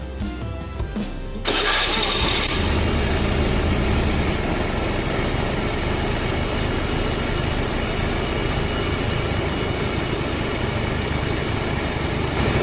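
A Honda Beat FI motorcycle with a sputtering, stalling fault is started and then runs continuously, its loud, close engine settling into a steady but uneven drone without pause.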